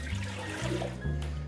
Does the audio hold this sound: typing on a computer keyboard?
no